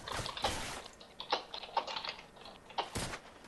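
A computer keyboard is typed on in short, quiet bursts of several crisp clicks with brief gaps between them, heard alone.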